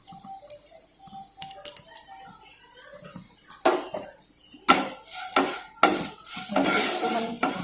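Chili fried in a pan with salt and turmeric for a Bengali aloo paratha filling, stirred with a utensil: a few light metallic clinks first, then louder rhythmic scraping stir strokes against the pan, close by.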